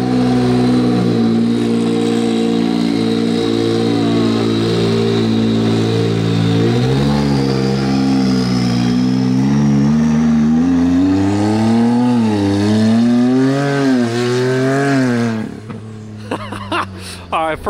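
Can-Am Maverick R side-by-side with a 350 hp Evo Stage 5 tune and launch control, its engine droning loudly, then revving up and down in repeated rising sweeps before cutting off near the end.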